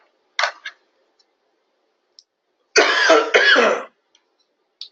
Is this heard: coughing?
yes